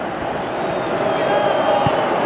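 A stadium crowd roars in a steady, dense wash of noise during a Wales vs Uruguay football match in PES 2018, holding a constant level throughout with no talk in the clip.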